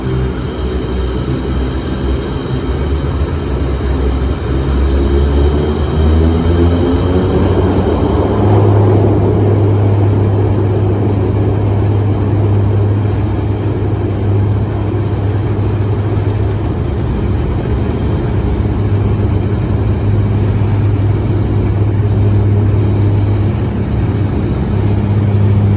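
Propeller airliner rolling down runway 02 at Minami-Daito airport and taking off on Japan's shortest route, recorded inside the cabin: a loud, steady engine drone with low hum rising in pitch and a whine above, building as the plane accelerates.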